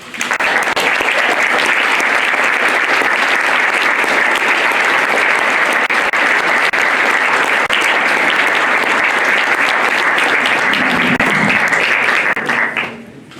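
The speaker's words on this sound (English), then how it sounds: "Let's applaud Representative Hall for that." Sustained, loud applause from the audience at a ceremonial bill signing, honoring a state representative; steady dense clapping fills the room for over twelve seconds before cutting off abruptly.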